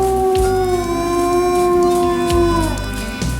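Howling from wolves or coyotes: a long, steady, high sustained howl that bends downward near its end, over low background rumble, with a few yips and a brief voice mixed in.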